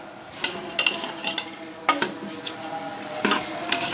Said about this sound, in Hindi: अब इसको मैं भून लूँगी